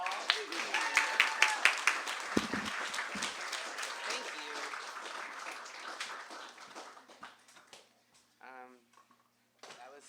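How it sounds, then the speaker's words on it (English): Warm audience applause at a poetry reading, loud dense clapping that gradually thins and fades, then gives way to a voice speaking near the end. "Let us give him a warm round of applause."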